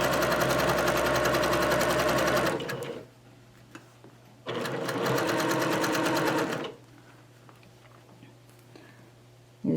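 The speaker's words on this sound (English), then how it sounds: "now you're going to stitch this at 1/4." A sewing machine stitches a shirt seam at a quarter-inch allowance, running in two steady, loud bursts of rapid mechanical whirring separated by a quiet pause, then falling still.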